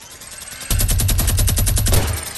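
Rapid automatic gunfire in Fortnite, a steady burst of about a dozen close, loud shots aimed at an enemy base, starting abruptly and running for nearly two seconds with no talk.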